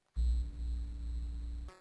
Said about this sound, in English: sounds like this might be sort of the equivalent of ear candy for a horror movie